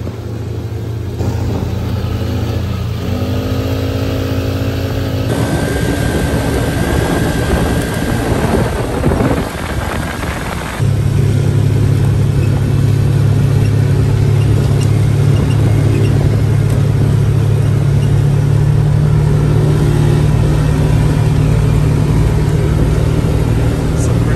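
A Can-Am DS90X ATV runs along a trail at Wolfpen Gap near Mena, Arkansas. Its engine drones loud and steady throughout, dips briefly, then rises to a stronger, fuller roar for the rest of the ride.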